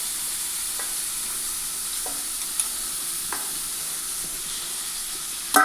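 Chana dal, mustard seeds and cumin sizzle in hot oil with a quiet, even frying hiss, broken by a few faint pops and clicks and a louder knock at the end.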